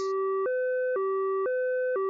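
A cartoon ambulance siren wails in a steady two-tone pattern, switching pitch about every half second, loud and alone.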